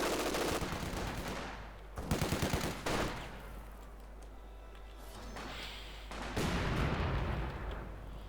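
Game gunfire from a German MG42 machine gun in a Company of Heroes 2 1v1 match, with mortars nearby: loud bursts of rapid shots near the start and end, with fainter battle noise between.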